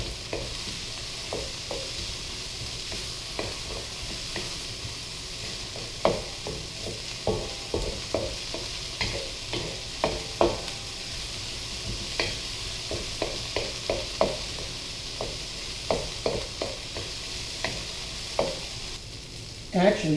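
Red, yellow and orange bell peppers stir-frying for chicken fried rice, with a steady sizzle and a rhythmic scrape of a utensil tossing them in the pan.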